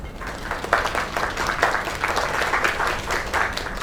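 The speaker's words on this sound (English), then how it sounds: "Another round of applause." Applause for a singer at a performance in the video game Lake: a steady crowd of clapping hands, dense and continuous, with no voices.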